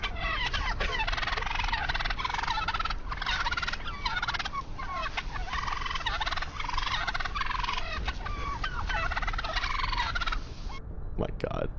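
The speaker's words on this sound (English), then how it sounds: "Fucking turkeys, man." Turkeys gobbling in a road, a flock letting out loud, rapid, overlapping gobbles in near-continuous bursts over a low rumbling background, cutting off abruptly near the end.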